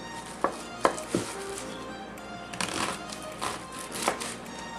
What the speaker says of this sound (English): we're going to just cut this onion up into pretty medium to large size pieces